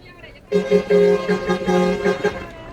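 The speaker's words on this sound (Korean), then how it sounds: "그래서 사람 안 온다고 빵빵거리는 거예요." Car horns honk repeatedly at a busy roadside rest stop on a Myanmar highway at night, sounding as several short, loud toots in a stuttering rhythm, with faint voices and crowd murmur underneath.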